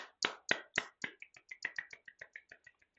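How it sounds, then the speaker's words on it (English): A single person's slow claps, crisp and close, starting with sharp spaced hits and speeding into a quicker, softer run of claps that fades out. "Slow clap."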